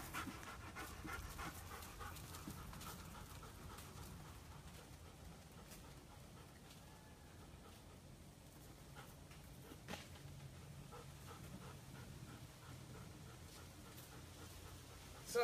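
A dog wearing an electric training collar pants steadily in quick, faint breaths, close by in an otherwise quiet setting, with a few small clicks and rustles.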